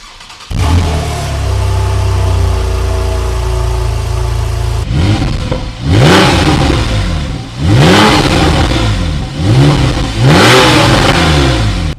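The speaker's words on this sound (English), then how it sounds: "start the vehicle up to show you a few of the features and of course how the car sounds" A Porsche 911 991 Carrera 4S engine cranks and fires into a steady idle, then roars through four sharp revs, each climbing and falling back, loud and close.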